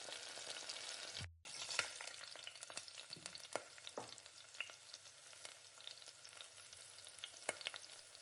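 Partly cooked banana flower sautés in a pan, a close continuous sizzle marked by repeated spatula scrapes and stirring clicks, with one short silent break early on and no speech.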